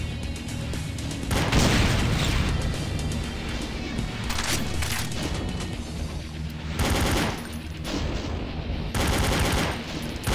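Heavy automatic gunfire and blasts in the video game Brutal Doom, loud dense bursts that come and go in waves with booming impacts over several seconds.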